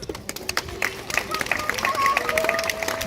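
An audience at a live seal show at Taronga Zoo claps in a burst of scattered, crisp hand claps that build into fuller applause, with a voice speaking over it.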